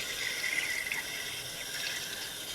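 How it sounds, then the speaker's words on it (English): Tap water runs into a greasy, burnt pan in a home kitchen, a steady close rushing stream that holds at an even level without pause or speech. "We got to get a little water in it."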